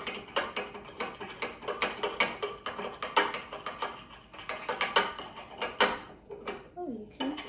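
Repeated clinks and scrapes of a spoon stirring a yellow-tinted mixture in a cup, quick and close with rhythmic bursts, mostly alone before a brief quieter stretch near the end.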